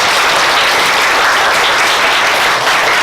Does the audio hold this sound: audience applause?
yes